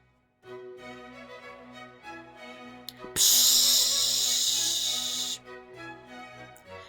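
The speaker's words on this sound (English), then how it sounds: "we're going to use the Gots to Be Glued spray to secure the curls onto the beehive" A steady hiss of aerosol spray bursts out for about two seconds, loud and close, between faint tonal background sounds.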